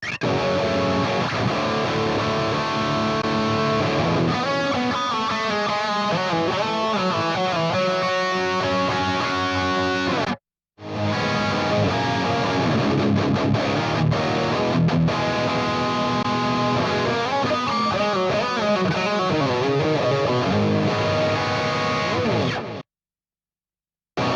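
An electric guitar run through a Tonex One amp modeler with a delay preset in Reaper, playing distorted riffs and chords with echoing repeats, close and loud, stopping briefly midway and cutting off abruptly at the end.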